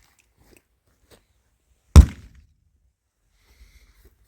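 An airsoft grenade, a Pyro-CQB or Flash-20, goes off outdoors in foggy weather with one sudden sharp bang and a quick fading tail, surrounded by near silence and faint scuffs.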